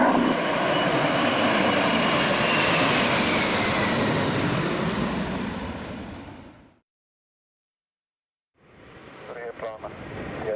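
A Slovak Air Force LET 410 twin-turboprop aircraft at an airport, its propeller engines roaring loud and steady at close range for several seconds, then fading into silence before radio-style chatter begins.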